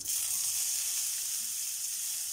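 Onions frying in hot ghee in a pan, a steady bright sizzle throughout, close and even, with no voices.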